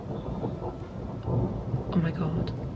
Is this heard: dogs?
no